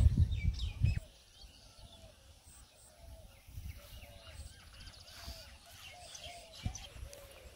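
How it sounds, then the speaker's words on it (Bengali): Doves and other birds call faintly in a rural village garden with okra plants, soft scattered coos and chirps over quiet outdoor ambience after a brief loud rumble at the start. "আর ওই পাশে ঘুঘু ডাকতেছে"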